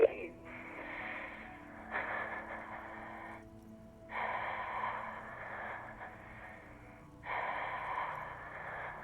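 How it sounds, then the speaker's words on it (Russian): Heavy, ragged breathing from a woman on the line in Disco Elysium, broken at intervals by old, crackling static; three long noisy bursts come and go over a low steady hum, with no talk. "ты слышишь ее тяжелое дыхание, которое то и дело прерывается древними помехами"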